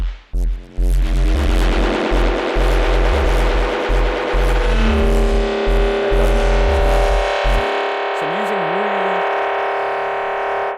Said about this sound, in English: I'm using really tight delays. And it creates this kind of like metallic sound